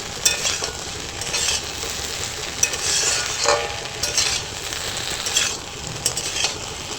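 Okra (bhindi) and potato fry in a pan for an aloo bhindi dish, with a continuous close sizzle and occasional scraping stirs, no talking.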